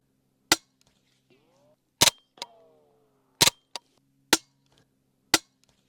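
Five sharp, dry cracks from a Ronin Arms integrally suppressed 9mm bolt-action rifle with subsonic ammo, spaced about a second apart, each short and snappy like a loud stapler, with faint mechanical clicks and sliding metal between them.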